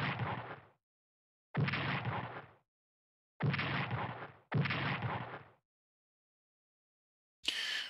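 Explosions from the World War II strategy game Strategic Command WW2 boom out in four heavy bursts, the last two nearly back to back, then a fifth starts after a silent pause.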